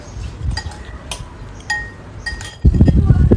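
Utensils clink against a bowl as jhalmuri is tossed with mustard oil and chilli, a few bright metallic taps scattered over a couple of seconds, then a louder burst of mixing and rustling near the end.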